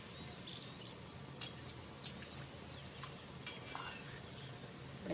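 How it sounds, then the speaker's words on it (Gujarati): Vada pav vadas frying in hot oil in a kadai give a faint, steady sizzle with a few light taps and clicks of a utensil, heard low and close without speech. "પેલા આપણે એટલા તળી લઈએ."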